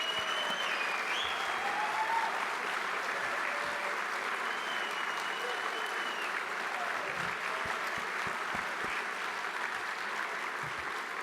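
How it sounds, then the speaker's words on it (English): Sustained applause from an audience honoring award-winning artists at a Western art show and live auction, a steady, fairly distant wash of clapping lasting the whole stretch with no voices over it. "round of applause."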